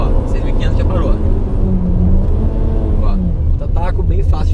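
A 2018 Fiat Argo HGT with a manual gearbox revs hard toward its limiter, a loud, rising engine drone held close under someone speaking throughout.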